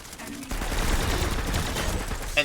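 A burst of NS-61 Emissary pistol fire in a video game, dense cracking shots running for about two seconds at close range, loud and steady with a sharp spike at the end.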